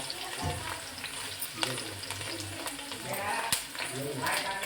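Curry leaves frying in hot oil for a fish curry, a steady sizzle with occasional stirring clatter, heard close with a voice speaking over it.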